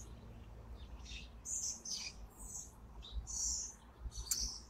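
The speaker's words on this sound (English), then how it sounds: "listen to the amazing tweets of the birds" Several small birds chirp and tweet in short bright bursts, scattered across a few seconds at a moderate distance over a quiet background hum.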